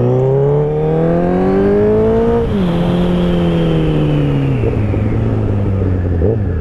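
A 2019 Honda CBR 1000 RR sportbike with an up-and-down quick shifter is ridden hard. Its loud, close engine whine climbs through the revs, with quick drops at each gear change.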